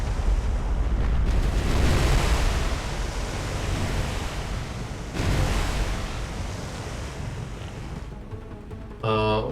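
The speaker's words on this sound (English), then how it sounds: "Especially after a magazine explosion." Ship magazine explosion and gunfire in a naval battle video game featuring the battleship Yamato: a loud, sustained roaring rumble with broad noise bursts that swell and fade, ending with a brief pitched tonal sound.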